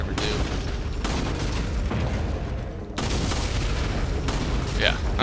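Gunshots in the Resident Evil 4 shooting gallery video game, a handful of sharp, loud reports spaced roughly a second or so apart, each with a booming tail, while someone talks over them.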